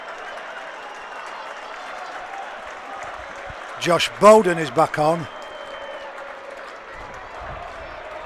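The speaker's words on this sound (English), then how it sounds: "it's Kai Rodwell getting the round of applause from the Neil Fox MBE stand for his efforts" Rugby league crowd in the Neil Fox MBE stand applauding during a Trinity versus Toulouse Championship match, a steady distant wash of clapping running throughout with a commentator talking over the middle.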